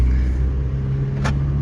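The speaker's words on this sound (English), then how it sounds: "Oh, I love the sound of a diesel." Steady low diesel engine rumble of a running Volkswagen Jetta TDI, close and constant, with a brief swishing sound near the end.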